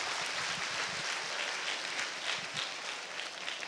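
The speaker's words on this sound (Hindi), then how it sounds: "इसलिए अपने आप के लिए जोरदार तालियां फिर से बजाइए" Loud, steady applause from a crowd gathered at a menstrual hygiene awareness program, a dense wash of clapping that holds evenly for the whole stretch with no voices on top.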